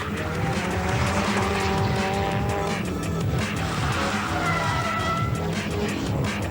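Drift cars in a competition sliding through a corner at angle, with loud sustained tire squeal and skidding over roaring engines, continuous and dense throughout.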